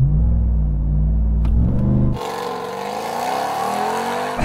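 The world's most powerful pickup truck launches hard with traction control off, a loud deep engine roar that drops sharply as it shifts and then climbs again in a rising howl, close and steady.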